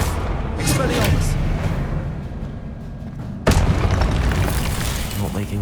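Expelliarmus spell cast in Hogwarts Legacy combat, with a sharp, loud burst hitting partway through after a rumbling stretch of game noise, followed by more busy clatter.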